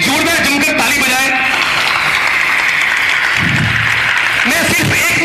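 Audience applause at a political rally in India, a loud, dense wash of clapping from a large crowd that continues throughout, mixed with shouting voices and crowd noise.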